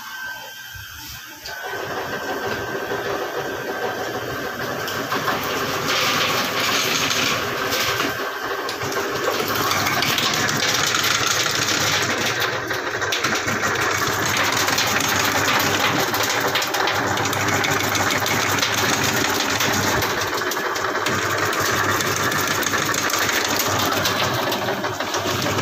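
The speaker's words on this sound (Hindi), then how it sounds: "ये थ्री पीस में काट रही है अभी मशीन।" A half-horsepower arecanut (supari) cutting machine slicing nuts into three pieces: a loud, steady motor whine mixed with continuous clattering and chopping that runs without a break after a brief start.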